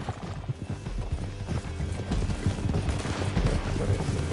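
Rapid hoofbeats of a galloping horse in Red Dead Redemption 2 pound steadily amid game action noise, with gunfire crackling in the mix throughout.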